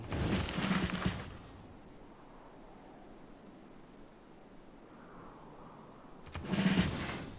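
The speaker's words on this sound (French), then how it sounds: "Explosion." An explosion in the strategy game Civilization VI: two loud, noisy bursts, one at the start and one at the end, with a faint hiss between them and no talk.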